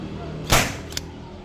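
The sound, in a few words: nail gun firing a nail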